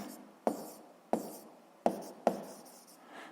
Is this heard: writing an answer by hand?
yes